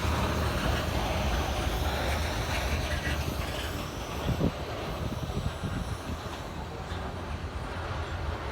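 NS manifest freight train with a UP leader and a rebuilt GP35 crawling through Roanoke, its cars rolling past nearby as a steady rumbling roar with faint rail squeal and clatter.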